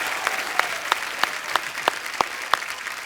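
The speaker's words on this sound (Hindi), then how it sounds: "जोरदार तालियां एक बार हो जाए" Studio audience applause on a comedy talk show stage, a steady wash of clapping with sharper individual claps standing out at a regular rhythm, loud and close across the whole stretch.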